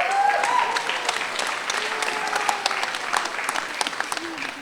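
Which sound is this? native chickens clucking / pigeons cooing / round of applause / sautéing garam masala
round of applause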